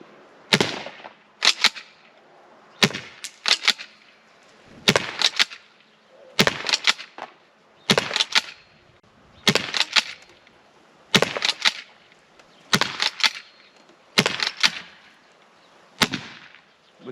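An Umarex T4E .68-calibre home defense gun firing about a dozen sharp, loud shots, mostly in close pairs at a steady pace, close by with quiet gaps between them.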